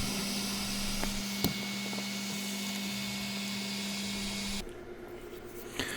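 A magnetohydrodynamic motor, prototype P3M4, runs with gas bubbles exiting its back end, giving a steady faint electrical hum with soft background hiss and a couple of small clicks before the hum cuts out near the end.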